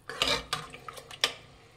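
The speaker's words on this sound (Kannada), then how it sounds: "ಮಿಕ್ಸ್ ಮಾಡಿ" A spoon stirs lentils, chopped tomatoes and water in a pressure cooker, giving a handful of quick metallic scrapes and taps against the pot, close and fairly quiet, with no one talking.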